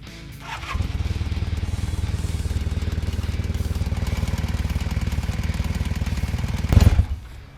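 A Honda CB400T motorcycle engine, freshly fitted with a new head gasket, starts and settles into a steady, throbbing idle, close by, with a brief rev near the end.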